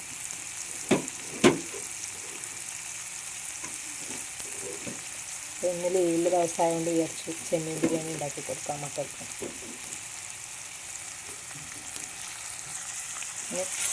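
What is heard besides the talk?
onions frying in pan for prawn biryani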